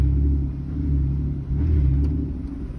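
A 2007 Dodge Dakota pickup engine runs with a deep, steady low rumble, swelling slightly as the throttle is blipped, close and continuous with no talk.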